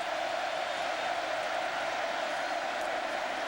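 A stadium crowd at a 2006 college football game between Oklahoma and Texas A&M roars as a loud, steady wash of noise with no breaks.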